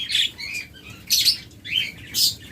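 Budgerigars, a large breeding flock with eggs and chicks, chirp and squawk in bright bursts, three or four clustered calls over a steady background chatter of many birds, fairly close and with no talk.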